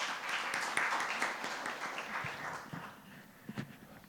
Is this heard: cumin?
no